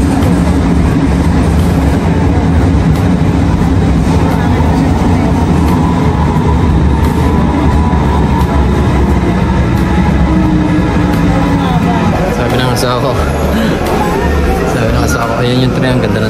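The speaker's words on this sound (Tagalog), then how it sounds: "Ayan yung tren, ang ganda ng tren." A train rumbles past close by, loud and steady with rhythmic clattering of wheels on the rails throughout.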